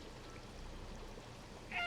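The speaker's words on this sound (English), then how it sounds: "Old kitty noises." A cat meows briefly near the end in the video game Stray, a short faint call rising over a low steady background hum.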